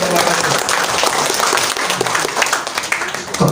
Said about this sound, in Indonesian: Tepuk tangan dong untuk anak-anak kita